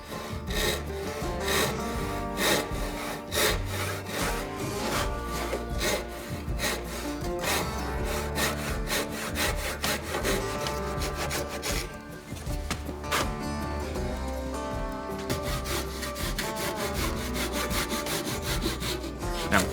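Hand saw cutting a timber tenon for a timber-framed duck run, a steady close rhythm of rasping back-and-forth strokes through wood that continues throughout, loud and alone without talking.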